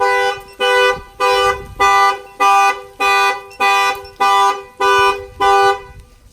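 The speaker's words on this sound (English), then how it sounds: "Fire off the alarm." A company fleet vehicle's car alarm blares in a steady pulsing pattern, about ten loud, evenly spaced electronic honks repeating close by.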